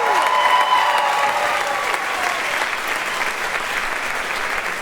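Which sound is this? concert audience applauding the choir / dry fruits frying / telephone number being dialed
concert audience applauding the choir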